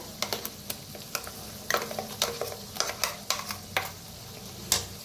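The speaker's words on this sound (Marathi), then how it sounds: "आता भाजून घेऊया मसाल्याला, याला बी मिक्स करून." Ground spice paste roasts in oil in a pan over a village wood-fired stove, with a soft sizzle under repeated scraping and stirring strokes of a spoon against the pan, close and fairly quiet.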